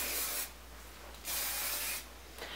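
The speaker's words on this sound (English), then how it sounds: "So I just spray this all over." A can of hair protection spray hisses in three close bursts, each lasting under a second, separated by short quiet gaps.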